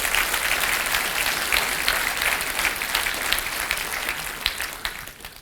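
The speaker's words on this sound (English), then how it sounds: "That was for you, the claps." Sustained applause from an audience at an annual general meeting, a steady dense patter of many hands clapping throughout, tapering slightly at the end with no talking.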